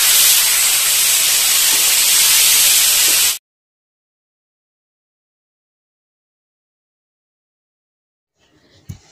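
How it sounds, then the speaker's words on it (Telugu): Precooked cluster beans (barbati) hit a hot frying pan with a loud, close sizzling hiss lasting about three seconds, which then cuts off into silence before a faint clatter at the end. "ముందుగా ఉడికించి పెట్టుకున్న ఈ బరబట్టి కూడా వేసి బాగా వేయించుకుందాం."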